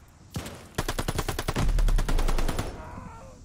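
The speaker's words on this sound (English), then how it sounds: "Oh, MG42." An MG42 machine gun in Call of Duty Vanguard rattles off a long, rapid burst of closely spaced shots, loud and close, after a brief thud, with the fire tapering into a fading tail.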